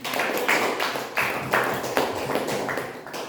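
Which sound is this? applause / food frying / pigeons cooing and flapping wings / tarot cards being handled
applause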